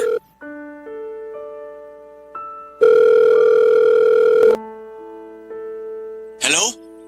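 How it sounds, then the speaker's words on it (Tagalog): A telephone rings with a loud, clear electronic ringtone of stepped melodic beeps, one long sustained tone in the middle, then a short noisy burst near the end. "Ayun, nagring."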